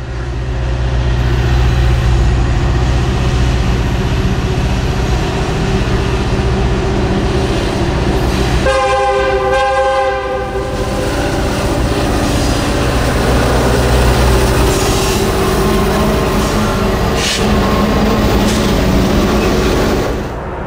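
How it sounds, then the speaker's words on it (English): A Norfolk Southern freight train of empty coke cars, led by a single SD70M locomotive, rolls past loudly as it builds speed for a grade. Midway the locomotive horn sounds in one sustained blast over the heavy rumble of the engine and wheels. "we see NSJ-43, bringing coke empties east, behind a single SD-70M. The engineer is getting a run at the grade,"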